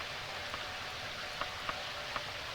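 Steady rain ambience from the video game Daggerfall Unity, a constant hiss of falling rain with a few faint drop ticks, even and unbroken throughout.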